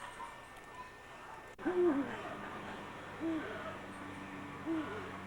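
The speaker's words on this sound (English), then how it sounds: "it's a Bengal eagle owl" A Bengal eagle owl at a bird park gives three deep, low hoots spaced about a second and a half apart, fairly close, over faint background noise.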